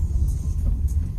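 A car driving along a narrow mountain road near Murree and Nathia Gali, heard from inside with the windows shut: a steady, close low rumble of engine and road noise, with no talking.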